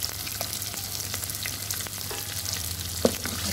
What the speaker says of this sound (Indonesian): Lepas tu kita masukkan bawang putih yang telah dicincang